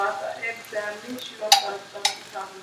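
Sweet curry plantain slices fry in a pan with a low, steady sizzle. Two sharp clicks from turning or utensil contact stand out, and a faint voice murmurs underneath.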